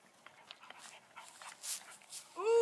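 Dogs scuffle in a playful fight, with a small dog among them, giving off panting, short whimpers and yips in scattered bursts, closing on a sharp rising whine, near and fairly loud.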